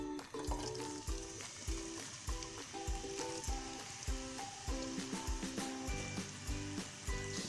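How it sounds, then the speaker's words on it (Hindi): Thinly sliced onions fry in plenty of oil in a kadai for keema biryani, a soft steady sizzle sitting quietly beneath prominent rhythmic background music, with no speech. "इसके अंदर हम डाल देंगे प्याज।"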